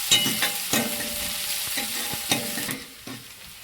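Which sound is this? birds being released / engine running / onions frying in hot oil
onions frying in hot oil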